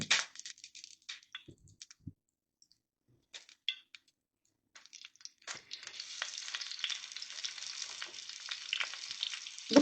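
Eggplant fries in hot oil for an Iraqi lamb tashreeb, beginning as sparse crackles and pops with gaps, then settling into a steady, close sizzle that builds toward the end.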